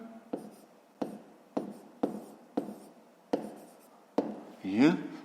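A pen writes a fraction by hand during a fifth-grade maths exercise: a run of crisp, regular strokes taps and scratches on paper close up, followed by a longer scribble at the end.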